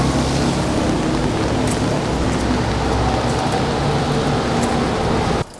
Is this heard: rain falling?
yes